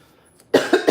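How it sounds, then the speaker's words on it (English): A single cough after a quiet moment, close and fairly loud, breaking into three short bursts. "I got a little cough."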